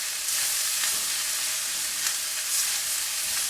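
Food frying in a blue carbon steel wok, a steady close sizzle with faint stirring scrapes throughout and no voices.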